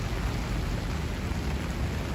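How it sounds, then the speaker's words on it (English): Steady rain falling on a Manhattan street near Central Park South and 59th Street in New York City, an even hiss with no voices and no breaks. "And it just started raining"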